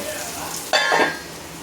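Tomatoes and onions fry in a pan, a steady sizzle that surges into a louder hiss for a moment before settling back, with a voice faintly underneath.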